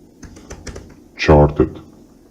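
Keystrokes on a computer keyboard during Photoshop text entry: a handful of light, separate clicks, then a louder, fuller burst near the middle that sounds partly voice-like, with quieter taps after.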